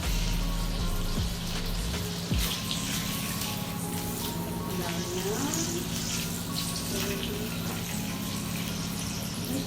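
Water runs from a kitchen tap in a home while dinner is cooked, a steady hissing flow with a few clinks and splashes.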